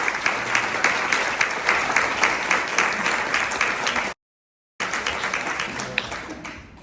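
Luncheon audience at an annual life member meeting applauding steadily, dense clapping from many hands that cuts out briefly to silence, then resumes and tapers off.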